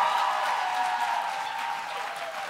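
Poetry slam audience applauding a performer, a brief burst of many hands clapping with faint whoops, fairly loud and holding steady before dipping slightly at the end.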